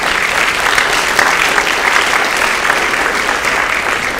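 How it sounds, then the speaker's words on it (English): Sustained, dense applause fills a high school auditorium for the winter cheer team, a steady even wash of clapping from a large audience lasting the whole stretch with no voices over it. "If you could give them a round of applause."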